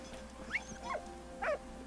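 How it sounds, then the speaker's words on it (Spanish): A dog in the video game Valiant Hearts gives a few short whining yelps, faint and close over a low game hum. "qué bonito perrito"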